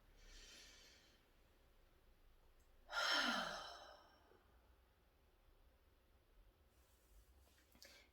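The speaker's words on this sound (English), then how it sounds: "So deep breath in." A single deep, audible breath drawn in during a meditative breathing exercise, rising as a clear airy rush after a fainter earlier breath, then quiet room tone.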